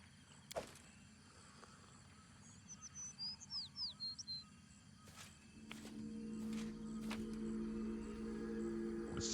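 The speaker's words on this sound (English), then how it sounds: "The bird with bright iridescent feathers sings its song and shows no fear as you approach." A bird with iridescent feathers sings in the video game Pathfinder Kingmaker: a short run of bright, quick chirps in the middle, over a quiet ambient background that later fills with a steady low hum.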